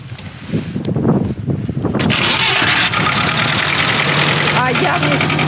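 An old farm vehicle engine on a Siberian farm cranks and catches after being struck with a hammer, then settles into a loud, rough, steady idle, with voices talking over the starting attempt.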